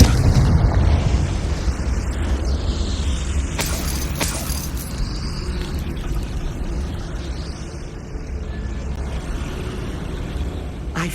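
The Confringo fire spell in Hogwarts Legacy sets off a loud booming blast that rolls into a long rumbling roar with a couple of sharp cracks, heard with no talking.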